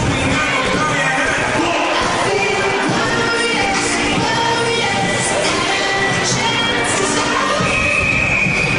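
Fort Collins fans at an ice hockey game against Steamboat send up a loud, sustained roar of crowd noise with cheering and shouts, a broad wash of sound from the arena stands carrying on throughout.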